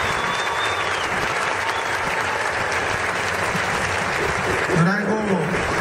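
A concert crowd at a show applauds steadily, a dense, loud roar of clapping that holds throughout, with a voice briefly heard over it near the end.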